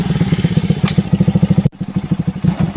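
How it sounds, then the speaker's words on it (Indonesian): A motorcycle engine putters close by in a fast, steady rhythmic chug, briefly cut and then resuming as the bike arrives. "Tah euy motor euy."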